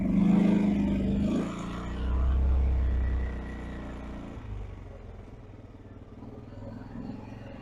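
A Loncin Xwolf 700L ATV engine drones while riding, a loud low rumble that rises and swells before settling into a steadier, rougher hum, recorded close with a faint rattle of the machine over bumpy ground.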